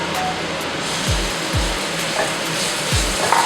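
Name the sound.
pork stir-frying with chili paste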